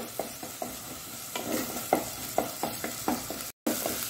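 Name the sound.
prawn mixture frying in a pan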